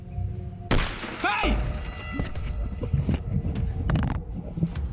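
A van window or panel is struck hard: one loud sharp impact with a scattering crackle of glass, followed by rustling, knocks and low murmured voices inside the van.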